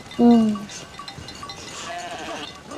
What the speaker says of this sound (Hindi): बकरियां चराने भी आती हैं भाई।